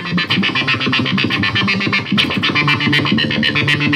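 A Boss SY-1 synthesizer pedal patch on guitar yields a busy, choppy synth tone with rapid pulsing, heavily effected notes, steady and loud with no voices.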